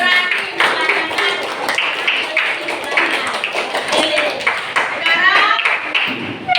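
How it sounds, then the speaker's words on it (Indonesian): Schoolchildren in a classroom clap for classmates, a loose, uneven patter of hands mixed with children's voices talking and calling out over it. "Kasih tepuk tangan untuk kawan-kawannya yang sudah berani mengajarkan."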